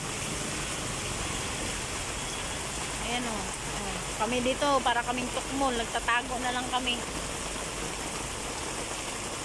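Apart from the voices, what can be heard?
heavy rain pouring down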